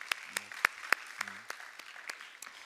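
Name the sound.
church congregation applauding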